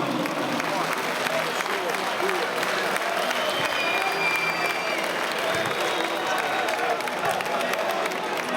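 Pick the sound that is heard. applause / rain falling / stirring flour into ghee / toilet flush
applause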